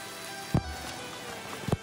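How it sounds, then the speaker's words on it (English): Heavy rain falling and overloading a roof drainage system, a steady wet patter throughout with two louder nearby thuds or splashes standing out. "It's raining."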